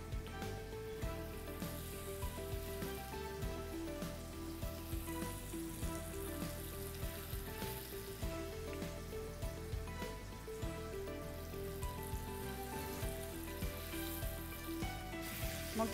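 Chicken breasts frying in a very hot pan give a continuous, fairly quiet sizzle and crackle, with scattered sharper pops over a steady hiss, and no voices.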